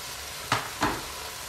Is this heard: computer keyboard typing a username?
no